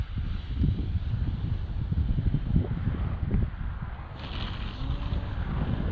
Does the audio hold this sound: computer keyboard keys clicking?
no